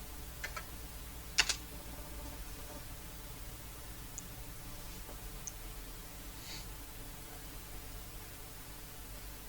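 Quiet, sparse clicks of typing on a computer keyboard over a steady background hiss, with a couple of slightly sharper keystrokes early on and no voices.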